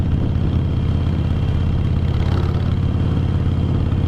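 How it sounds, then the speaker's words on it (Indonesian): Harley-Davidson Sportster 1200 cc Forty-Eight motorcycle engine running steadily and loud, a continuous low rumbling drone with clattering texture and no talk. "Motornya ini adalah Sportster 1200 cc 48."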